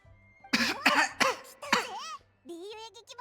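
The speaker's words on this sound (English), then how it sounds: "I sniffled and somehow that left the cough" A person gives a short burst of coughing after a sniffle: three or four sharp, close coughs in quick succession, followed by a brief vocal sound afterward.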